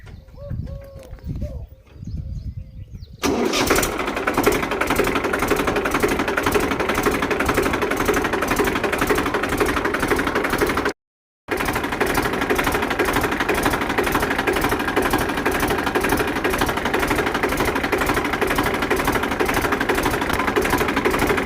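A Massey Ferguson 1035 DI tractor engine starts up after a few quiet seconds, then runs with a loud, steady diesel chug close by, pausing for a moment before carrying on just as strongly.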